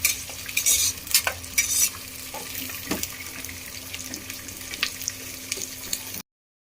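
Fresh hyacinth beans (avarekalu) being stirred and fried in a pan, with scraping spatula strokes and soft sizzling close by, a few sharper scrapes standing out over a light crackle, no talk.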